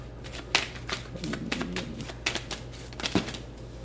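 Tarot cards being shuffled by hand, a run of crisp riffling and tapping bursts close to the mic with a soft low hum underneath and no talking.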